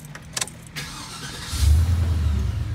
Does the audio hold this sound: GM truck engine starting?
yes